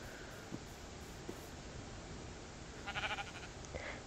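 A Minecraft sheep gives a short, faint bleat near the end, a few quick wavering pulses over a low, steady background hiss.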